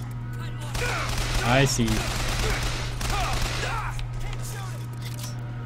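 Rapid turret gunfire in a video game, dense bursts of shots filling the mix continuously and loudly while someone talks over them.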